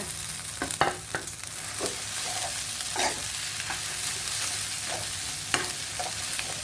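Rice and egg stir-fried together for shrimp fried rice, with steady scraping strokes and a continuous sizzle close by, no voices.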